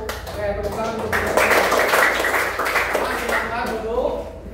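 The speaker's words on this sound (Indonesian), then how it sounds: "tepuk tangan untuk kita" A classroom group applauds together after a chanted patriotic song, with a dense burst of clapping that swells in the middle and carries on under overlapping voices.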